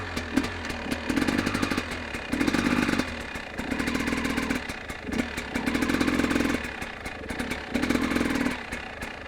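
A motorcycle engine idles with a rapid rhythmic clatter from a knock simulated with the clutch, and bursts of deeper revving swell and fade several times.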